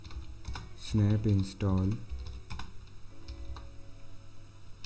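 Keys tapped on a computer keyboard while a command is typed to install PyCharm IDE on Ubuntu, a light patter of clicks in a few bursts with a voice speaking over the middle stretch.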